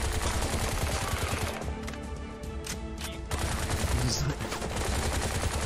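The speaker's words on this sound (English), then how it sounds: "Ow, ow, ow, stop shooting me." Rapid bursts of automatic gunfire in the shooter video game Bright Memory, dense and continuous, mixed with loud game sound effects and a brief tonal whine partway through.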